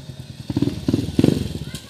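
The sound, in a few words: converted 175cc motorcycle engine running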